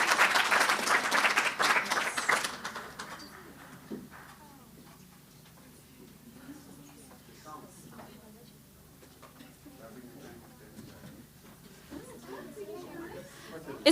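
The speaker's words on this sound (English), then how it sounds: "Yeah, one round of applause." A round of applause at a Palestine solidarity event with poets and a screening, loud clapping for the first two seconds that fades into quieter room noise and murmuring voices.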